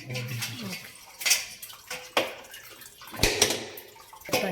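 Water gushes and splashes in uneven bursts from a water purifier being flushed during cleaning, with a voice talking nearby.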